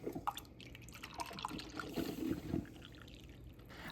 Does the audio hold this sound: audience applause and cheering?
no